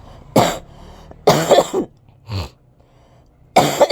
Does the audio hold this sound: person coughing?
yes